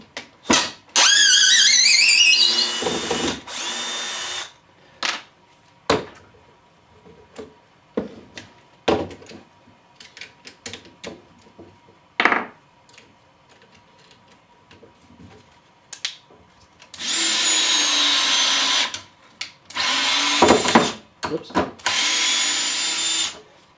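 Festool CXS cordless drill/driver driving a screw on a Robertson bit, with loud sustained motor whirs in bursts at the start and end, separated by clicks, taps and handling noises.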